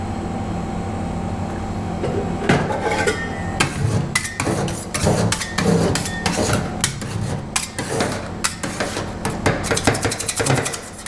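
Metal spatulas scrape and tap rapidly across a cold steel plate while mixing rolled ice cream with olive oil, a busy, fairly close rhythm of clacks and scrapes.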